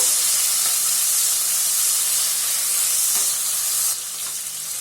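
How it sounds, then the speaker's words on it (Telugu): Finely chopped tomato pieces frying in a pan for coriander rice give a loud, continuous hissing sizzle, with a few faint utensil taps and a slight drop in level near the end. "ఇందులోకి సన్నగా కట్ చేసి పెట్టుకున్న టమోటాలు వేసుకున్నాము వేసుకొని టమోటా ముక్కలు కూడా మెత్తగయ్యేంత వరకు ఫ్రై చేసుకున్నాము"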